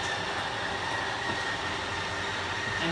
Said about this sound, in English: It's got that motor whine. That's a Schwintek.